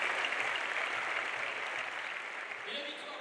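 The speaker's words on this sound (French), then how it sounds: "Un deuxième applaudissement pour ces deux équipes." A crowd at a wheelchair handball match in Brittany applauds two teams, a steady, fairly faint wash of clapping that tapers slightly toward the end.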